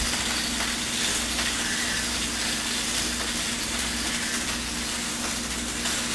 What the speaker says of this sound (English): That's our aquarium, and it is kind of noisy.